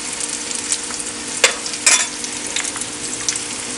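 Fenugreek seeds and ginger sizzle in hot oil in a frying pan, a loud, steady crackling hiss with a couple of sharper pops and stirring scrapes, close up and without talking.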